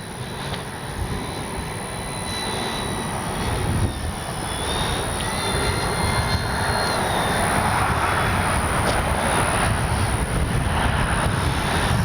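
An RC F4U Corsair model warbird on a 4S battery whines overhead with a steady high electric motor and propeller drone, loud and continuous, passing agile through the air as wind brushes the microphone.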